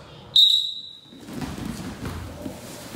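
A coach blows one sharp, loud, high whistle blast lasting about a quarter second during wrestling drills, followed by shuffling and thuds of wrestlers moving on the mat.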